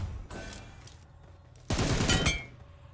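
Gunfire in the battle royale game PUBG: a short burst of shots followed by a louder, sustained volley about a second later, heard alone without talk.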